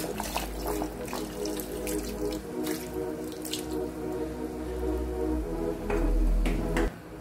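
Water runs steadily from a tap into a sink or pot, a continuous splashing stream with scattered drips and clinks, close by.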